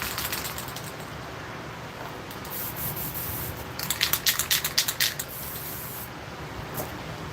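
Cheap spray paint hisses from an aerosol can onto wood while cutting in around a carved face: a quiet steady background, then a quick run of short, sharp spray bursts and one final puff.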